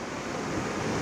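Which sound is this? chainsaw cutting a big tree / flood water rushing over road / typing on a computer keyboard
flood water rushing over road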